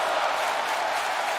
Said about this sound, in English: The crowd with the "This is awesome" chant.